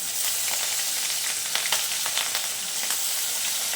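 Brinjal sizzles steadily in hot oil as chopped tomato goes in, a dense close frying hiss with a few crackling pops and stirring, no talk.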